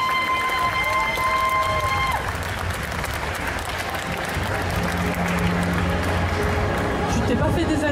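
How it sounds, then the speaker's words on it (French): Audience at an indoor cosplay contest applauding, a steady dense wash of clapping and crowd noise held throughout, with a faint tonal sound fading early and low hum underneath. "Alors les applaudit bien fort s'il vous plaît."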